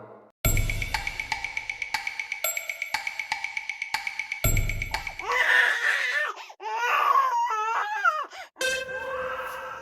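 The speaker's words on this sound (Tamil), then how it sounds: "குழந்தை அழுகுற மாதிரி இருக்கு." A baby cries in wavering, rising and falling wails over several seconds, after a steady run of rhythmic metallic knocks and clanks.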